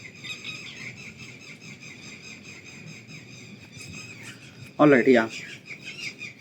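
Birds chirp and squeal continuously nearby, with one sharp, loud squawking call standing out near the end; a person speaks briefly over it.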